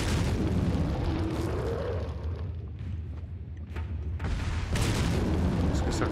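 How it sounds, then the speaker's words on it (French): A grenade blast in Resident Evil 4 during a fight with a giant: a loud, booming burst that rolls and fades, followed by a second heavy blast a few seconds later. "on va utiliser une petite grenade, peut-être que ça va le calmer."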